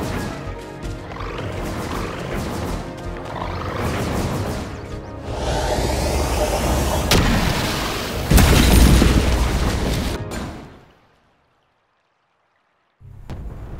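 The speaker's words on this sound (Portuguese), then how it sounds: "Pareceu uma explosão e um enorme deslizamento de terra!" A long, heavy rumbling roar of an explosion and landslide in a video game, with deep booms, swells and crashes loudly for several seconds, then cuts to silence before a low rumble returns.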